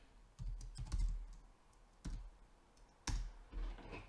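Clicks and taps on a computer keyboard come in a few short bursts separated by quiet pauses, close and fairly soft, with no one talking.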